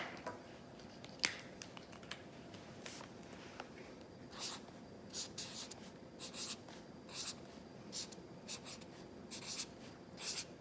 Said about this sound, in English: Let's write it.